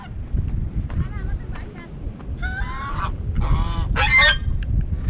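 Geese honk angrily in several harsh bursts close by on Sagar Island, heard over steady wind and low background rumble.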